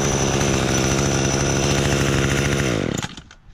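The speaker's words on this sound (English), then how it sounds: "The weed trimmer head actually works really well" Weed trimmer fitted with a replacement trimmer head, engine running at a loud steady high-revving buzz close by, then winding down and cutting off near the end, no talk.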